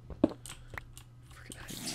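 Squishy, crunching clicks and chitters from Minecraft spiders in the video game, sounding close and fairly faint, with a few irregular bursts over about two seconds and no speech.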